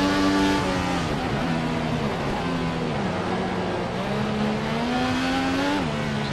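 Race car engine from the Formula 1 2014 game on PS3, a steady high-pitched whine that holds close and loud throughout, with pitch dips and climbs as the car shifts and accelerates, and no talk over it.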